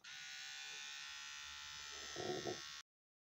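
An electric shaver is switched on and runs with a steady, close buzzing hum for under three seconds, then stops abruptly, with a faint murmur underneath.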